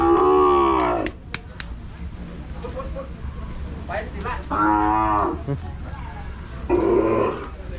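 Red Brahman cattle lowing in a farm pen, three long, loud moos spaced a few seconds apart with quieter grunts and shuffling between, while someone talks in the background.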